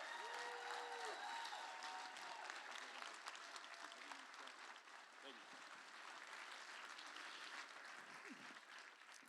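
Applause at a Children's Aid benefit gala: a large audience claps continuously and fairly loudly throughout, a dense, sustained roar of hands that thins only slightly toward the end.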